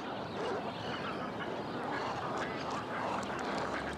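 A freckled duck of inland Australia calls softly, faint repeated notes sunk in a steady hiss of background noise.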